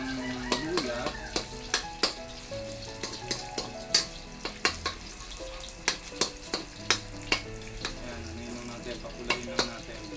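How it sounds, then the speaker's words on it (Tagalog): Garlic and ginger sizzle in plenty of hot oil in a pan for batchoy, with a steady frying hiss and frequent sharp clicks of a utensil scraping and stirring against the pan. "So magigisa tayo ng bawang, ay luya."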